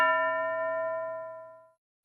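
A single bell strikes once, ringing out clear and loud in a classroom during a Marathi English-learning activity. Its tone decays over about a second and a half, and then a second strike begins at the end.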